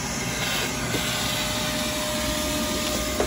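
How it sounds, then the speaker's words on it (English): A Milwaukee M18 cordless vacuum cleaner sucks up debris inside a 1987 VW Vanagon Syncro Westfalia, giving a steady, loud, broadband whine with a high pitched tone that holds without a break and no voices. "we've got our Milwaukee M18 vacuum cleaner that we stole from the resort"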